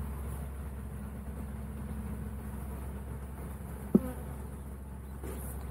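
Bees buzzing around an open hive box full of brood, a steady close insect drone with one brief knock partway through, no talking.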